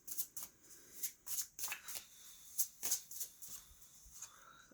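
Oracle cards are shuffled by hand in a quiet room, a close, soft run of riffling and flicking bursts in an uneven rhythm with no talking.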